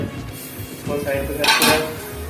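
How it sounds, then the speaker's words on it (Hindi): Dishes, pots and cutlery clatter with repeated knocks from a kitchen as someone washes up nearby, muffled clinks under faint background voices. "और ये ठक ठक यार ये जरा मम्मा बर्तन धो रही थी तो इग्नोर।"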